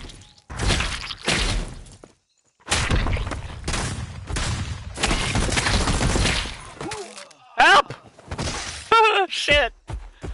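Gunfire from the video game Don't Even Think comes in sharp bursts of shots and shattering impacts, loud and close, while a player talks excitedly over much of the action.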